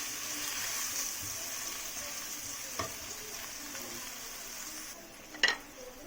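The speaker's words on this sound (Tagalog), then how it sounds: "nagpapainit na ako ng mantika. So, magsusutay na tayo. Una muna yung garlic." Garlic sautéing in hot cooking oil gives a steady, soft sizzle through the whole stretch, with a brief utensil tap or clink near the end. No one speaks over it.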